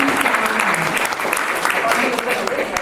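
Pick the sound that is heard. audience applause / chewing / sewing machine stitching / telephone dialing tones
audience applause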